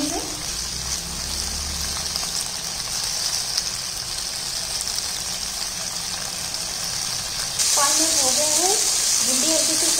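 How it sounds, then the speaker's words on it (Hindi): Okra (bhindi) deep-frying in hot oil gives a steady, dense sizzling hiss that runs throughout; a voice speaks near the end. "इसे हम डीप फ्राई चलाते रहेंगे और फ्राई करते रहेंगे"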